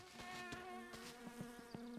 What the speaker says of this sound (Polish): Fuj, muchy latają.